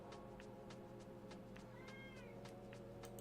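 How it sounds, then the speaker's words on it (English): A pet cat gives a single soft meow indoors. The meow is quiet and sits under a steady electrical hum and a series of regular faint clicks. "Yeah, that's my cat."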